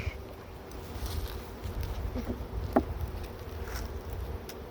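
Honeybees hum steadily in the background during a late winter beehive inspection, a soft continuous buzz with a few faint knocks and frame handling sounds.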